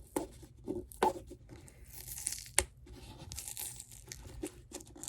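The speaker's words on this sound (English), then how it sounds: "So I'm just taking off the tape." Packing tape torn off a cardboard box by hand during an unboxing, heard as several short, sharp tearing and crinkling bursts with a louder rip near the middle, close up.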